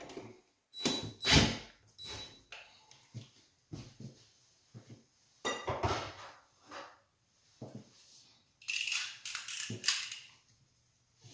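A screw anchor is backed out of a hollow particle board door, giving several short bursts of clicking, ratcheting turns separated by brief pauses, close and fairly quiet, with no voices.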